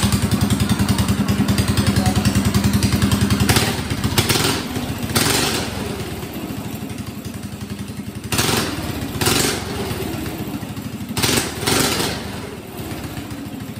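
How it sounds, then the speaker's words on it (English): A small gasoline engine on a rat rod style go kart runs at a busy, rattling idle and then blips up into several sharp revs. The revs are spaced a few seconds apart and sound close and loud. "Now, if we start this engine, we should be able to spin those rear tires."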